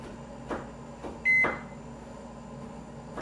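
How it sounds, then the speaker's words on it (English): A microwave oven heating marshmallow slime gives a few door and button clunks, a bright electronic beep, then settles into a steady low hum. "we're gonna go bring it to the microwave and heat it up for 30 seconds"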